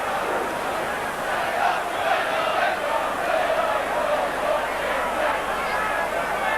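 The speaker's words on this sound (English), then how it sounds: "And a very big crowd here at the Boulevard" A big crowd at a rugby league match between Hull and Australia at the Boulevard in Hull, a steady roar of many voices with swelling cheers, loud and continuous throughout.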